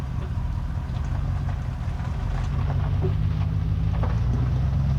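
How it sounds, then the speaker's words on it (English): A 2025 Ford F350 Lariat Tremor with the high output diesel engine runs steadily from inside the cab, a dense low rumble that holds even and constant at moderate loudness throughout with no talk. "this does have the high output diesel engine."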